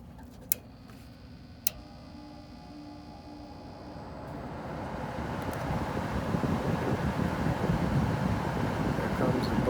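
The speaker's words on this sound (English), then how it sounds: "There comes the blower, so we got normal cool mode now" An ICP air conditioner's indoor blower spins up, with a faint ticking at first and a broadband rushing airflow that swells steadily over several seconds into a loud, constant whoosh.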